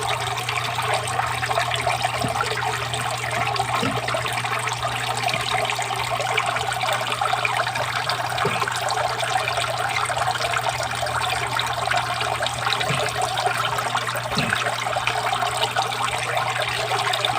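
Old water drains from a catfish (hito) pond as a continuous, steady rush and gurgle that stays loud and close throughout, with occasional faint splashy ticks.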